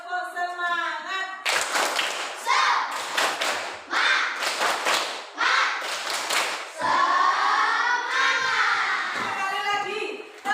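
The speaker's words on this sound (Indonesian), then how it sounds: "kita tepuk semangat dulu" A class of children claps a rhythmic spirit clap in quick bursts alongside chanting voices in an Indonesian classroom, loud and close, with pauses between the clapping patterns.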